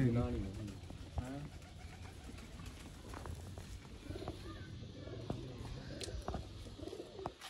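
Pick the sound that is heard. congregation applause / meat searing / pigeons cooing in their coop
pigeons cooing in their coop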